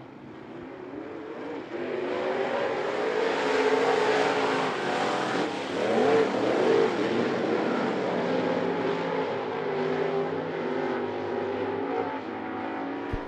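Sportsman race cars roar off at the start of a heat race at I-75 Raceway, a loud sustained rumble of several engines that swells and shifts as the pack passes, heard from trackside.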